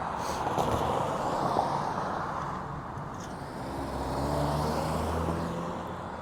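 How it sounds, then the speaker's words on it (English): Cars crossing a city intersection, a continuous roar of traffic with vehicles swelling and fading as they pass, heard from the road while riding a Radio Flyer 26 inch step-thru e-bike. "They don't realize these other cars are not going to stop coming across this intersection."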